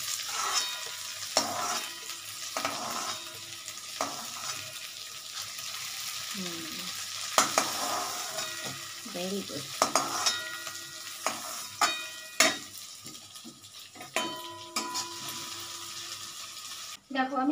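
Soft, pressure-boiled soybean chunks fry in a pan and are stirred: a steady sizzle broken by repeated scraping clatters of the spoon, with a short spoken remark.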